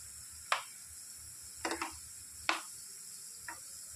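Mango pakoras fry in hot oil with a soft, steady sizzle, broken by four or five sharp, brief clicks, probably utensils, spaced about a second apart.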